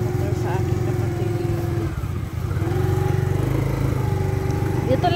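Close, continuous drone of a borrowed motorcycle ridden around the barangay in Tuburan, the engine holding a steady pulsing note with a brief dip mid-way before rising and running on, no talking.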